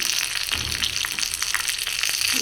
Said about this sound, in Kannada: ಒಗ್ಗರಣೆ ಬಾಡಿಸಿ ಬಾಡಿಸೋಣ